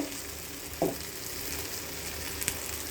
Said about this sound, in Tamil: கத்திரிக்காய் வதங்கிடுச்சு, தனி மிளகாய் தூள் போட்டு நல்லா வறுக்கும்